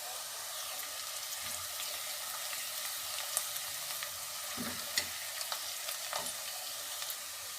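Five chopped garlic cloves fry and brown in hot oil in a pan, giving a steady soft sizzle and hiss with occasional small pops and stirring clicks, faint and close.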